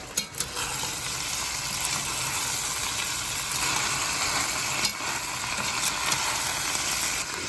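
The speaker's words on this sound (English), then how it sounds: "And let's stir this up a little bit." White beans and chorizo with sun-dried tomatoes being stirred in a hot pan give a loud, continuous sizzle and fry, with occasional scraping knocks of the spoon against the pan, close and alone with no voices.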